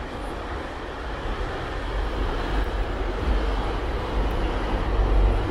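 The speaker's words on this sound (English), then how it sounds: "there's a train now" A train passes through the city along Gerrard Street in Toronto's east end, heading toward Union Station, a steady rumbling roar that builds gradually in loudness over several seconds without any voices.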